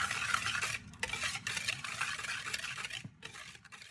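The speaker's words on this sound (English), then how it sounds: "And then we're gonna whisk them all together" A whisk works flour, sugar, baking soda and baking powder together in a bowl for a chocolate pumpkin cake, making brisk rhythmic scraping and tapping strokes close by, with no voices.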